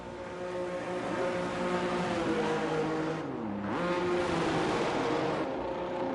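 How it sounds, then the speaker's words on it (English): Race car engines drone and rev together in a racing video game as several cars head out on track, a sustained tonal whine with a brief pitch dip and recovery, no talk. "Got a few cars are going out on track already."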